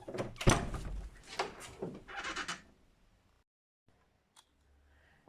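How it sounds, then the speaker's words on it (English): A door leading into a barn at a French chateau is opened, with a few clunks and scraping creaks in the first seconds, then near silence with a faint tap. "We're going to continue now through this door here, which leads on to the barn"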